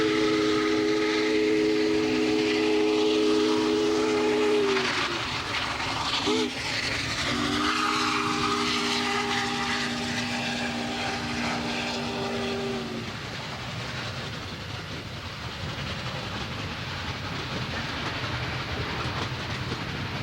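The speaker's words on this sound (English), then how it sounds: "the largest operating steam locomotive in the world tackle one of the most fabled mountain" Union Pacific 3985, a large steam locomotive, working hard up the Sherman Hill mountain grade, its loud steam whistle blowing two long sustained blasts over a continuous rumbling train roar that carries on after the whistle stops.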